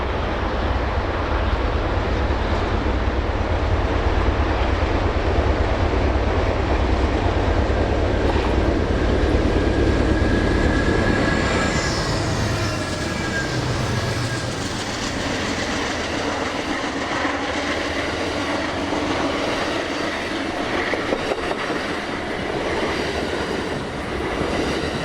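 A Union Pacific train carrying a 1927 Pullman car rumbles past on snowy Donner Pass in winter, with a heavy low roar, steady wheel clatter and a faint squeal. It fades gradually as the train moves on.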